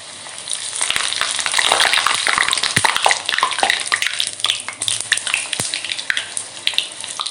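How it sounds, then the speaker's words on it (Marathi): Puris deep-frying in hot oil for a festival offering platter, a dense, continuous bubbling sizzle with crackling bursts, loud and close, with no talking. "तेल गरम आहे मी या पुऱ्या तयार करून घेतल्या आहेत त्या आपल्याला तेलामध्ये सोडायच्या आहेत"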